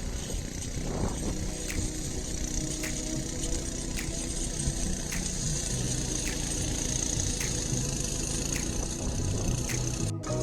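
A mini excavator engine runs steadily while clearing thick weeds on overgrown land, a continuous mechanical drone with a regular faint ticking pulse, close and unbroken throughout.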